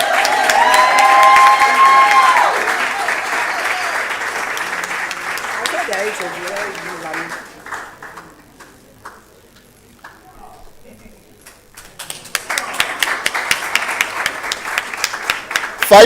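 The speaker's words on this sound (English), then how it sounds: "Let's just keep clapping." Audience clapping and applause at a workplace quality-week closing ceremony: loud sustained applause with some cheering, fading to a quieter stretch midway, then rising again with sharp rhythmic claps; a voice speaks over the clapping at the start.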